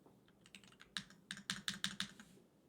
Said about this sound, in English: Put your hands on the goddamn keyboard and type true.